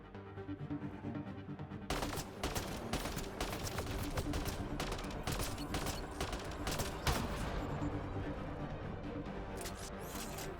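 Rapid sci-fi gunfire in a firefight in the video game Mass Effect Andromeda, dense overlapping bursts and single shots cracking continuously after a short lull, loud and close.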